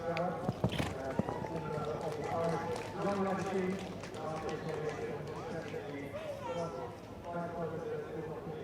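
Horses gallop across turf on a cross-country eventing course in quick rhythmic hoofbeats, with a crowd murmuring and a commentator talking over the action.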